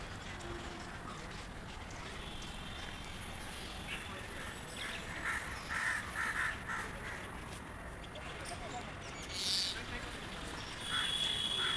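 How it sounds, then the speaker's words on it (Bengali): Crows caw repeatedly in the open countryside after rain, their calls mixed with other birds against a steady outdoor background, with quiet voices now and then. "কত পাখি"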